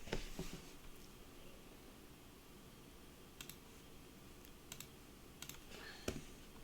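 Sparse, quiet key clicks on a computer keyboard, a few isolated taps over a faint steady background hum, with no voices.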